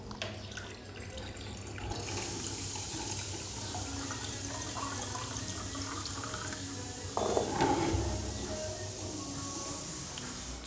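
Water is poured from a container, a steady rushing trickle that runs for several seconds, close and continuous, briefly louder near the end, with no talking.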